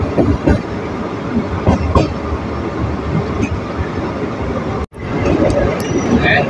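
A Pakistan Railways express passenger train rumbles steadily along the tracks with rhythmic wheel clatter, loud and close, with a brief dropout near the end before the rumble resumes.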